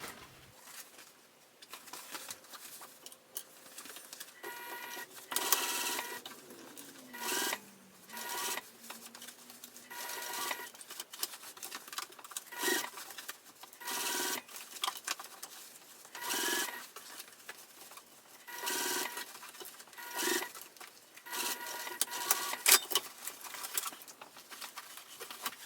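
A home sewing machine stitches the side seam of a fabric hobo bag in short quiet bursts of rapid patter, separated by pauses and faint handling sounds.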